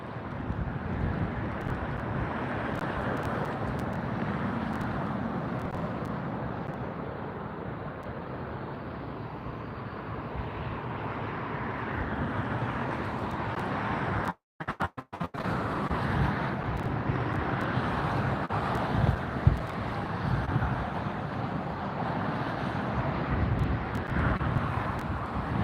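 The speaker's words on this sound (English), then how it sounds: "Very breezy today, so you might see the pilots reacting to some crosswinds here. It's gusting, there's a steady breeze and it's gusting." Blustery crosswind buffets the microphone at LAX, a rough, steady roar with gusty swells and a brief dropout midway, with faint airport background and no voices.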